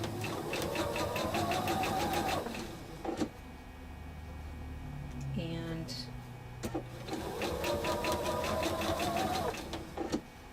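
A sewing machine stitches a quilt block in two steady bursts of rapid mechanical chatter, separated by a pause where a person talks quietly near the machine.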